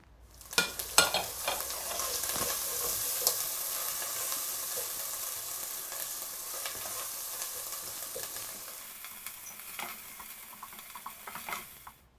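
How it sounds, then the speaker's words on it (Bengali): Ginger and ground spice paste are stirred in hot oil in a frying pan while pickling Dillenia indica, with a steady sizzle and frequent scraping clicks of a spoon against the metal throughout. "আদা দিয়ে কিছু সময় নাড়বো তারপরে আবার অন্য মশলাগুলো দিয়ে দেবো"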